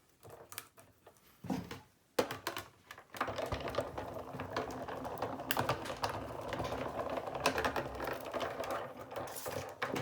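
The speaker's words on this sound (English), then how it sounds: "Now I'm going to cut the moon element from this." Blade or cutting machine working through thick card to cut out a moon shape, a rapid buzzing patter running steadily after a few brief starts, close and fairly loud.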